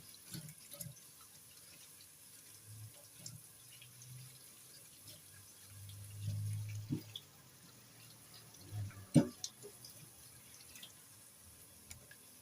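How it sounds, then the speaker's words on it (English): A leek is rinsed under a running tap, heard as a faint, steady trickle with soft splashes and drips and one sharp knock near the end. "So we just wash our leek."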